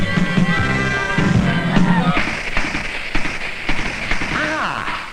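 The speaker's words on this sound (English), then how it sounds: "Those are real bombs, Phil, not firecrackers." Cartoon firecrackers and bombs go off in a dense run of bangs, pops and crackling, loud and continuous over busy cartoon music and effects.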